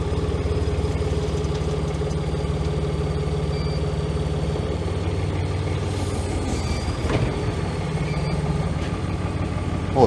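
A new Manitou telehandler engine idles steadily close by, a deep continuous diesel rumble with a brief clunk partway through.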